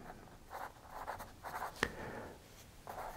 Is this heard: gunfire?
no